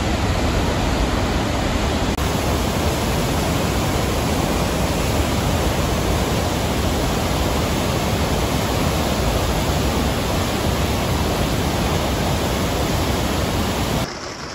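Water rushes and roars through a salmon ladder in Tromsø, Norway, continuously in a dense, steady torrent, loud and close, without any voices, easing slightly right at the end.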